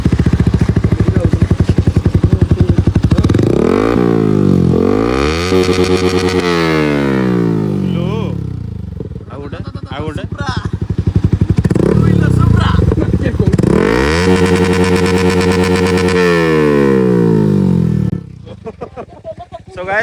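A Yamaha R15 V4 motorcycle with a loud aftermarket exhaust revs hard and close, with repeated rising and falling throttle sweeps and a harsh, crackling drone, and someone talks over it.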